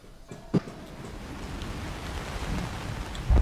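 Steady rain hiss in the naval strategy game Highfleet, a continuous wash of noise with a low rumble that grows slightly louder toward the end, plus a couple of brief thumps.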